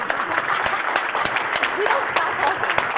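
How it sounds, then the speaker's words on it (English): Conference room audience claps after a talk, a brief spell of scattered applause mixed with voices speaking over it. "I want to clap for you."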